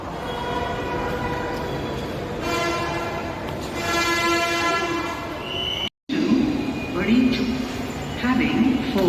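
Four-coach Jaipur metro train pulling into a station platform, a steady rumble with tonal whine and brakes building up close, while people talk and a platform announcement plays over it.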